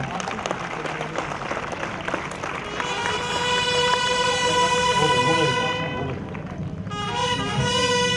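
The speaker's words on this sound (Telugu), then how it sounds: "అందరు కూడా దయచేసి చప్పట్లు కొట్టండి." Crowd applause at the inauguration of a state girls' and boys' kabaddi tournament, steady clapping mixed with horn-like tones and crowd noise, loud and sustained through most of the stretch.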